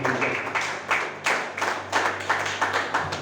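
A church congregation claps in a steady, strong rhythm of repeated hand claps, loud and close, with a low hum underneath.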